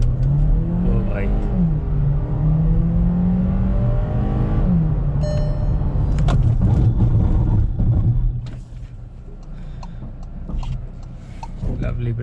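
A Skoda Slavia 1.5 with DSG gearbox launching hard in sport mode with traction control off, its engine note climbing through rising revs with a shift, loud and close from inside the cabin, a voice exclaiming over it.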